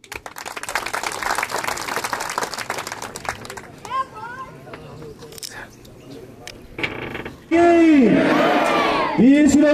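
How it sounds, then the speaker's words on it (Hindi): Crowd at a jayanti (birth anniversary) celebration in India, with cheering and clapping over a public-address announcer's voice, then a loud, dense burst of applause and shouts near the end. "तालियों की गड़गड़ाहट थोड़ी ज्यादा रखें"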